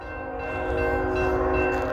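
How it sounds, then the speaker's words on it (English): A train rolls through a downtown street crossing in Tullahoma, Tennessee, as a steady, loud rumble of wheels and rail cars with a sustained tonal hum, building slightly louder as it passes close by. "Yep, this train is moving pretty quick,"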